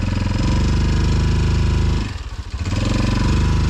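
A lowered Kawasaki KLX 230 trail bike fitted with a Rekluse auto clutch idles close by, with a steady loud thumping single-cylinder beat that briefly dips and roughens before settling back into rhythm.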